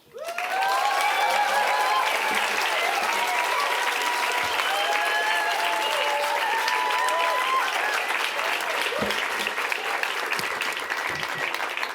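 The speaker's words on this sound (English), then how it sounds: "And you clapped" A large crowd bursts into sustained, loud applause after a speech at a solidarity and justice gathering, dense clapping with a few whoops and cheers rising over it, starting abruptly and fading slightly near the end.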